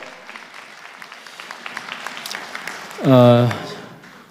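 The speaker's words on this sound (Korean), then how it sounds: "좋은 설명해 주신 우리 유현주 교수께 감사의 의미로 다시 한번 박수 부탁드리겠습니다" Scattered clapping grows into a short burst of applause from an audience at a talk on Apgujeong apartment redevelopment, then fades away.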